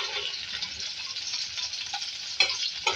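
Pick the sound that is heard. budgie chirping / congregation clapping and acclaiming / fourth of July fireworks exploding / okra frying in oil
okra frying in oil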